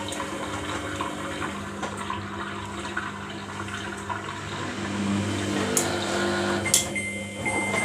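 Samsung washing machine filling with water for its final rinse during a service wash, a steady rushing inflow with mechanical hum, growing slightly louder midway, plus a few brief clicks near the end.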